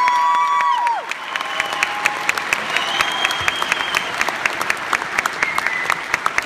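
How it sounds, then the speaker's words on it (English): A school auditorium crowd applauds sixth-grade band students steadily for several seconds, with scattered whistles and cheers rising above the clapping. "Let's have one more round of applause for our sixth graders."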